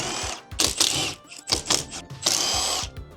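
A power tool whirs in short bursts while removing CVT casing bolts on a damaged Yamaha Aerox scooter engine, several close, loud spins separated by brief pauses.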